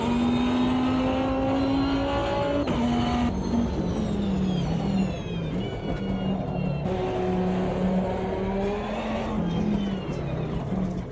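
A historic endurance race car in Automobilista 2 laps Road Atlanta, its engine loud and close, revving up through rising pitch sweeps with sharp drops at gear changes, then easing off and building again.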